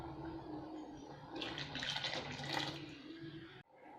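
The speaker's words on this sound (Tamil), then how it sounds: "இப்போ புளி தண்ணி ஊற்றிக்கலாம்." Tamarind water poured into a pot of Tirunelveli idi sambar, a steady gushing, splashing pour that swells in the middle and stops abruptly near the end, close and alone.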